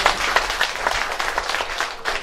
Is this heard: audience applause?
yes